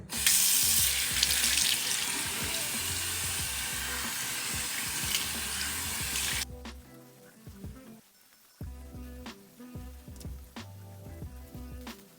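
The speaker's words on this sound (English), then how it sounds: "trying to wash my hair in the bathroom sink" Tap water runs hard into a bathroom sink while hair is washed, a loud close rush for about six seconds, then quieter splashing and dripping as the flow stops.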